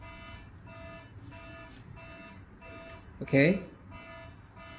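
A Telpo face recognition access-control device sounds a brief temperature alarm, a short burst of layered electronic beeping, with a person talking in the clip.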